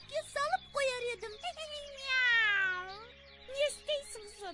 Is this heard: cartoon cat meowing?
yes